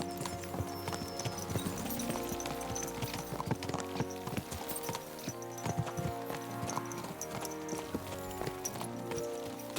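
Horse hooves clip-clopping in the video game Kingdom Come Deliverance 2: a fast, steady run of close, sharp hoofbeats from more than one horse, continuous throughout over a low, busy background.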